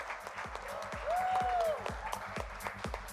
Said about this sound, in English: Can we have a round of applause for Kashyap?